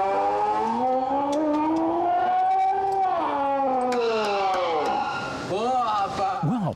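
A voice imitates an ambulance siren, wailing up and down in long rising and falling sweeps, alone and close.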